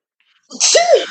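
A single sharp human sneeze, close and loud, with a short breathy intake followed by an explosive burst, then silence.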